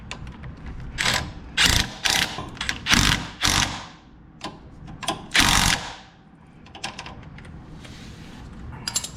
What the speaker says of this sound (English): let's go ahead and tighten the sway bar